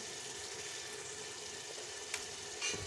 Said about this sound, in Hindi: प्याज लहसुन अदरक के पेस्ट के साथ हमारे खड़े गरम मसाला भी फ्राई हो गए हैं।